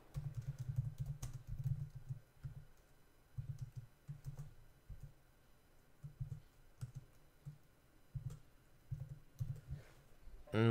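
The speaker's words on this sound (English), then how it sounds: "So I'm going to type some error message." Typing on a computer keyboard while filling in a Google Forms field: a faint, steady run of soft key clicks with no talking.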